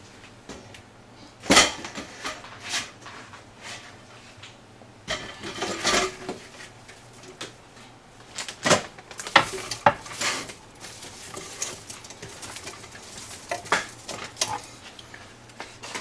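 About ten pounds of Celeste Louisiana brown figs drop into a cooking pot, heard as scattered soft thuds and knocks with metallic pot clatter, close by and irregular.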